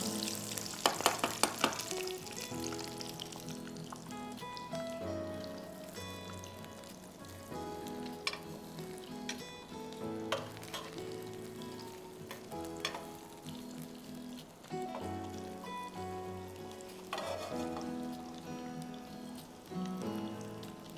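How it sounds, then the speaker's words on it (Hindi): Chicken breasts fry in a pan until golden, a steady close sizzle with occasional crackles and stirring scrapes running throughout, no voices. "अच्छी तरह से दोनों ब्रेस्ट फ्राई कर लीजिए, इस तरह गोल्डन हो जाए।"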